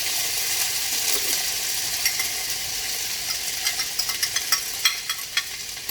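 Onion and mixed red, green and yellow peppers sizzle in a pan while being stirred, with a steady frying hiss and growing spoon-scrape clatters toward the end.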